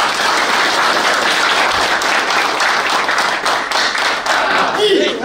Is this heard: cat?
no